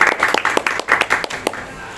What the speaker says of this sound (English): let's have a big applause to our guests